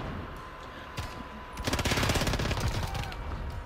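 Pistol fire in Call of Duty on the Berlin map, a dense string of sharp shots that swells from about 1.6 seconds and keeps going to the end over game ambience.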